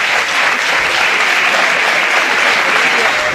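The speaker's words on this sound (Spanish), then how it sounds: "Fuerte el aplauso." Spectators at a rural bike race in Punta de Indio giving a strong round of applause, a loud, even, continuous wash of many hands clapping close by with no pauses.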